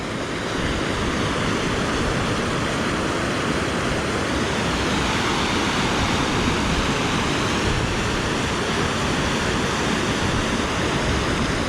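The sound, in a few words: flooded creek water flowing over spillway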